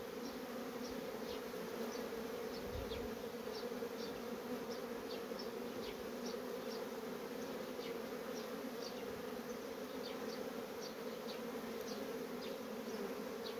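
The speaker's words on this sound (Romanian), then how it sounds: "Iar albinele care pleacă coboară pe peretele de sus al stupului și vor ieși prin partea superioară a urdinișului." Honeybees buzz at the entrance of a beehive. A dense, continuous hum comes from many insects close by, with faint scattered ticks, and no talking.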